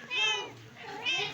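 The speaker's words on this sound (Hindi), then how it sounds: "5 बच्चे हैं इस बिल्ली के" A mother cat with a litter of five kittens meows twice, close and clear, each call rising and falling, with a short quiet gap between them.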